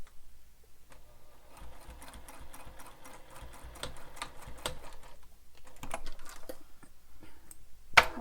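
A sewing machine stitches the top pocket of a bowler bag, a quick run of rapid needle clatter starting after a second of quiet, then scattered handling clicks and a sharp tap near the end, no talk.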